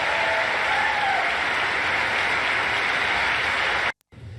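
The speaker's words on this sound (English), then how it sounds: "And there's Marjorie Taylor Greene clapping." Dense, loud clapping fills the US House chamber, a continuous roar of many hands that cuts off abruptly near the end.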